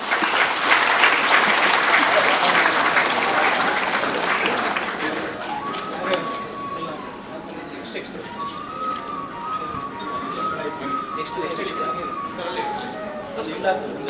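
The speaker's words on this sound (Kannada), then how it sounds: "ಬರಲಿ ಚಪ್ಪಾಳೆ" Audience at an award ceremony for student achievers breaking into sustained clapping that fades after several seconds, followed by quieter room ambience with faint bird cooing.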